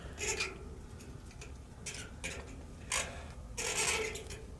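A metal fitting is screwed onto maple syrup equipment in a sugar bush, giving faint rubbing, ratcheting scrapes in a few short bursts over a low background hum, close up with no talking.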